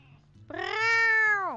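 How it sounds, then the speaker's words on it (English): A glitch cat in a video game gives one clear, drawn-out meow that rises, holds and falls off, standing alone at close range. "By the way, this is my glitch cat."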